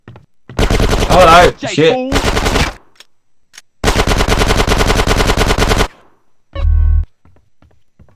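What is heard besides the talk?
machine gun fire in video game GTA San Andreas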